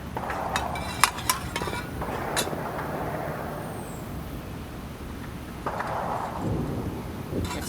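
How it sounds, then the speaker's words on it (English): Thunder rolls in the distance during a rainy day outdoors, a low, continuous rumble with a few sharper cracks. A steady hiss like falling rain sits underneath. "Thundering a little bit over here"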